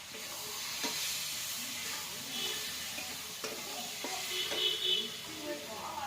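A constant frying hiss of chicken and onion fills the clip, broken by a few soft stirring knocks and scrapes, close to the pan.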